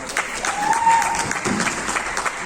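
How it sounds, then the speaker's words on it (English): Guests applaud a couple beginning their first dance at a wedding reception at a resort club in Pune, a short burst of clapping from a crowd with a faint whistle or tone and some voices mixed in. "Let's all have a loud round of applause for the couple as they start with their first dance together."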